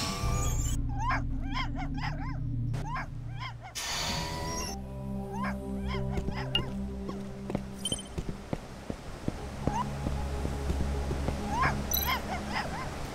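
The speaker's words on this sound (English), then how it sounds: "Puppy is barking at something down there." A puppy in the video game Tales of the Neon Sea barks repeatedly, a series of sharp yips and whimpering barks over a low, droning game soundtrack, fairly close and clear.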